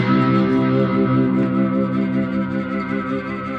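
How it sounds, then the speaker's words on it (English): Cigar box guitar played with a slide and heavy distortion, a sustained buzzing note wavering with vibrato and ringing on continuously without a break. "next thing is your vibrato with the slide"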